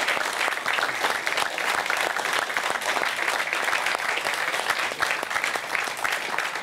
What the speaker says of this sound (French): Jacques Thiers, on peut l'applaudir encore une fois